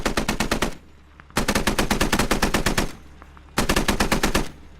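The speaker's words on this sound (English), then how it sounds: "As I hear Kudu already opening fire" Machine-gun fire in a video game battle with BTR vehicles dropping troops, three loud close bursts of rapid evenly spaced shots separated by short pauses, no voices.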